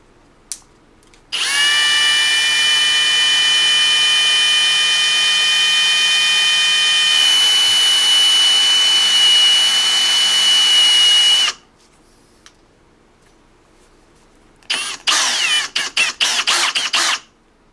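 A rotary tool with 1500-grit abrasive polishes an oiled Smith & Wesson M&P 9mm trigger plunger, a loud steady high whine for about ten seconds, then a few short bursts after a pause.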